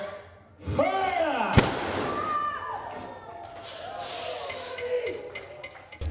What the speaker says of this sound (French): Le canon, il était gros et puis il a fait un bruit énorme.